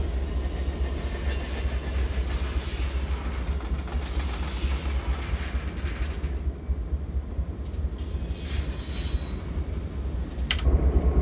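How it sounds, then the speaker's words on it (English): A Union Pacific GP38 freight train hauling boxcars, hoppers and tankers in Train Simulator rumbles steadily with a continuous low roar and rolling wheel noise, close and loud throughout, with faint higher squeals near the end. "What we're hauling, it's a manifest train."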